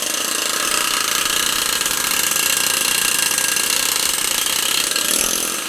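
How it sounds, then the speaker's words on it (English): A loud, continuous pneumatic hammering drives a lollipop bearing race out of a BMW E36 control arm, a dense, unbroken rattling buzz close by that holds steady for the whole stretch before easing slightly at the end. "he's working on getting the lollipop bearing race out"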